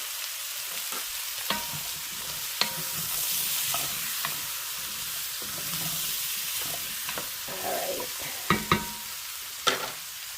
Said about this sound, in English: I'm going to add 1/2 pound of white mushrooms, and I just washed them and cut them in half